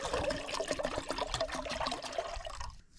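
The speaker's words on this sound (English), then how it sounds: "We'll pour some water in here and get her going." Water poured into a pot on a Camp Chef camp stove, a close gurgling, splashing stream lasting about two and a half seconds before stopping abruptly.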